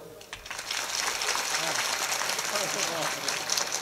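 Women in a kirtan audience clap together in a continuous, fairly faint patter of many hands, with voices mixed in.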